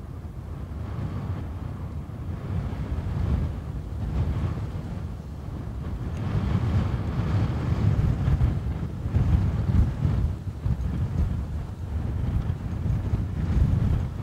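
Gusting wind buffets an outdoor microphone at an airport, a continuous low roaring rumble that swells and eases over the whole stretch, loud and dense with no other clear sounds.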